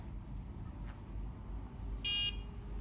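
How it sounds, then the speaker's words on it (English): Low steady hum of an Olivetti PCS 286 computer powering on with a faint tick, then a single short electronic beep near the end. "I'm hearing a beep, few beeps, and it's actually working."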